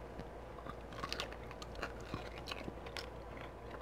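Close, steady chewing of beef ribs coated in spicy barbecue sauce and a candy glaze, with soft wet crunches and small bites repeating over a faint background hum.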